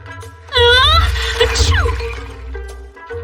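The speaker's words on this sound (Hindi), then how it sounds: "हाँ, क्या इन झाड़ियों ने छींक मारी?" A single sharp, strained vocal burst like a sneeze, with a tonal wail and rustling noise around it over a steady low hum.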